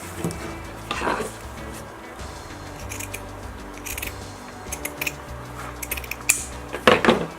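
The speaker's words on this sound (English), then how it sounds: "I'm going to just cut it in" Scissors snip through burlap, cutting it in half, with scattered crisp cuts and rustling of the coarse fabric, close and fairly quiet, a louder cluster of snips near the end.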